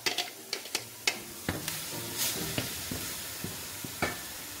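Chopped fennel tossed into a hot pan, crackling sharp sizzles with a series of distinct stirring clatters and pops over a low frying hiss, close and fairly loud.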